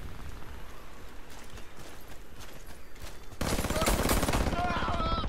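Pistol shots in the Warface shooter, first faint single reports among background game noise, then a loud rapid string of shots crowding the last two seconds.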